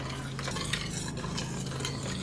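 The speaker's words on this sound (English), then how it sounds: "now I'm going to stir in the pectin" A spoon stirs pectin into cooking strawberry jam in a pot, producing soft, continuous scraping and sloshing strokes with a low simmering bubble underneath, close and moderate in level, no talking.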